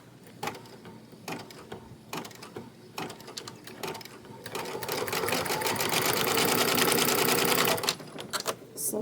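An embroidery sewing machine stitches a bag, with short stop-start bursts of mechanical clatter that build into a steady, loud, rapid whirring run before cutting back to brief bursts.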